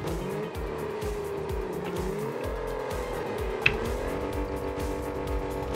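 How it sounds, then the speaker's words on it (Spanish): Rocket League cars roar continuously with rising and falling engine revs, overlapping tire squeals and skids, and a sharp impact thud partway through, all loud and close with no talking. "es que como me mola que suenen los coches"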